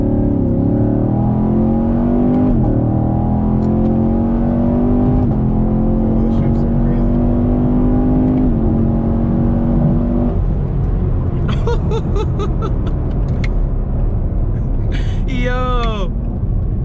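The V8 of a 2020 Chevrolet Camaro SS revs up with rising pitch and clean gear changes while driving, loud and close from inside, then eases off to a rumble as chirping tire squeals cut in near the end.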